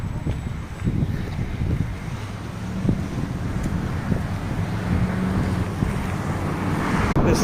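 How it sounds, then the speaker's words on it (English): Strong, steady wind roars and buffets the microphone outdoors just ahead of a tornado, a continuous loud rush with low rumbling gusts and no voices. "It's getting totally windy out here."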